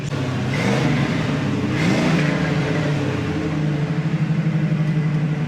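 A 1979 Chevy Camaro Z28, black with orange and red trim, revs its engine in two rising pulls near the microphone, then settles into a steady, loud, throbbing idle with no talk over it.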